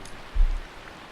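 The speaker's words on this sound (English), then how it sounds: "Now you can see the rain." Rain from a video game's dual particle system makes a brief, steady soft hiss of falling drops at a moderate level.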